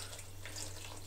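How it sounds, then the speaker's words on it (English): Water poured from a tap into a pot of pot-au-feu with leeks and other vegetables, a faint, continuous splashing rush without any voices. "I'm gonna top the whole thing up with a bit more water"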